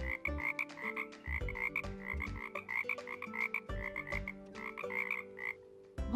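Cartoon-style frog croaks from a children's animal-sound quiz, repeating in a steady rhythm over a plucky musical backing, loud and close with no talking.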